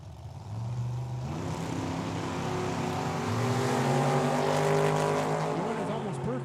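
Drag race cars launch side by side at Tucson Dragway, with a Camaro in the left lane. Their engines roar and climb steadily in pitch as they pull away, a loud sustained rising drone through the whole stretch.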